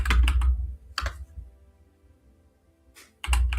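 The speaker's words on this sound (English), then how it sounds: "we can't see what you're typing" Fingers type on a computer keyboard in short, close bursts of clicking keystrokes, separated by a quiet pause.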